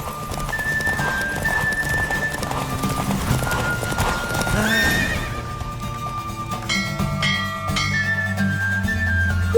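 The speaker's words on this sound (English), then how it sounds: "the horse race taking place as we speak" Galloping horse hooves clatter rapidly with whinnies during a horse race in The Witcher 3, set against bright, busy racing music and chimes.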